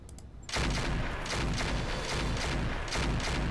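Mech weapons opening fire in a heavily modded BattleTech game, starting with an abrupt loud burst that becomes a sustained barrage of rapid, overlapping gunfire and booming impacts lasting several seconds.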